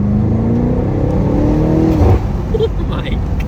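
A sports car engine roars and revs loudly up through the gears, rising in pitch, then drops off as the power eases, recorded close from inside.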